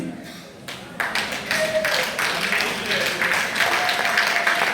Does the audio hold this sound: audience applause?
yes